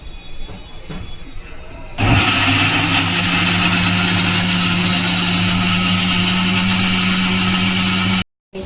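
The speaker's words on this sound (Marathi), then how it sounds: "तर चला आता मिक्सरला लावून घेऊया" An electric mixer grinder grinds chole masala, bursting into a loud, steady high-pitched motor roar after two seconds of quiet and running continuously for about six seconds before cutting off abruptly.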